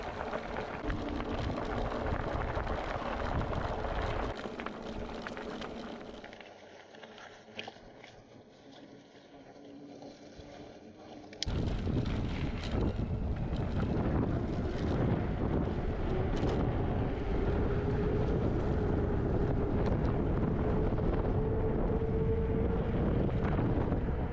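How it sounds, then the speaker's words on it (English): Loud wind on a windy day buffets the microphone during an electric fat bike ride in a steady roar, dropping to a quieter stretch midway before the rumbling gusts return just as strongly. "And note that it is a windy day."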